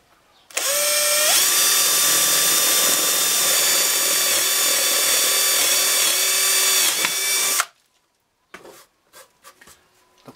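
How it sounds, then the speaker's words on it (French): A power drill bores a hole in a wooden screwdriver holder, a loud close whine running about seven seconds with a pitch shift near the start, then cutting off into light handling clicks. "et je vais me percer."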